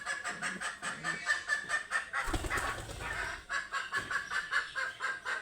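Two pet pigeons coo in a close, steady rhythm of repeated throaty calls, with a brief rustle partway through and no talk.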